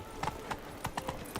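Hooves of the horse Roach clip-clop at a walking pace in The Witcher video game, about half a dozen soft, evenly spaced thuds, fairly quiet and unaccompanied.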